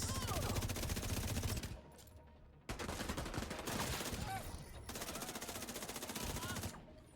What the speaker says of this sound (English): Stand up, you're being shot.